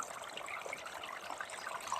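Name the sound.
water trickling slowly through a beaver dam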